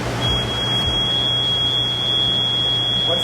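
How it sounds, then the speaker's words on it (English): A water detection sensor alarm sounds beneath a quarantine aquarium tank, a steady high-pitched electronic beeping tone that pulses continuously over low room hum, with no voices. "an alarm starts going off that the team is not used to hearing."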